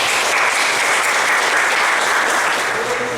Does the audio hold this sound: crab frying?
no